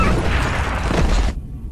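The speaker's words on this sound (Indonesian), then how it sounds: "anjing tersebut membawa dinamit dan langsung meledak tepat saat Atami melepaskannya" A dynamite explosion in a film, heard as a loud sustained booming rumble that fills the first second and a bit before cutting off abruptly into quiet.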